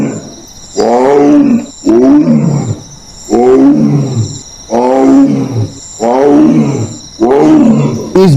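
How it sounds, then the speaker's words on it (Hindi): A tiger in Jim Corbett National Park, Uttarakhand, gives a series of five or six loud, deep moaning roars in a steady rhythm, each call about a second long and separated by brief pauses, close and dominant with no talk. "अगर आपने बाघ की कॉल सुनी होगी तो वो कुछ इस तरह होती है"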